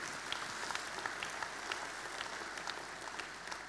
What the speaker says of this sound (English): A round of applause as we welcome Ashley Campbell.